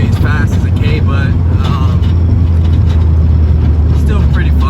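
Honda Civic VX with a D15B engine accelerating hard into VTEC, a loud steady engine drone heard from inside the car, with a voice talking over it throughout.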